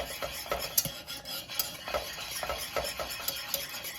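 Polenta being stirred in a pot, a rhythmic scrape of a utensil against the pan with soft bubbling underneath, close and steady, with no talk.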